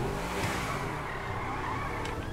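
A steady car engine drone in GTA V from a Mitsubishi Eclipse, holding a fairly even pitch, continuous and close, with a slight rise in revs near the end.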